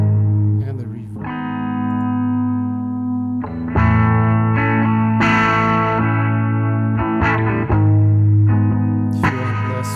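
Sustained distorted chords played through a processing chain in Reaper with compression, saturation, modulation and reverb, loud and upfront, changing several times with shimmering wash and lingering tails between strikes.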